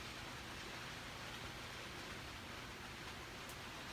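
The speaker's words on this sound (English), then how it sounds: "Still pouring rain outside" Heavy rain pouring outside, a dense, steady hiss with no letup and no talk.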